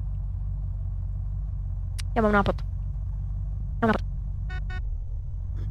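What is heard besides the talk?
car engine while driving in the video game Unturned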